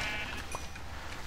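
A Minecraft sheep bleats once, a short nasal cry over faint background game noise, with no speech.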